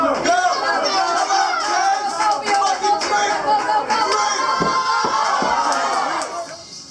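A bar crowd cheers and shouts loudly at a beer chugging contest in a Baltimore tavern, a dense roar of overlapping voices and yells with a few sharp knocks, easing slightly at the end.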